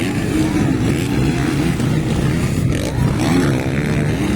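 Motocross motorcycle engine racing in an intermediate open class at a Cabanglasan motocross event, a loud, steady engine drone that rises and falls slightly as the bike is ridden hard throughout.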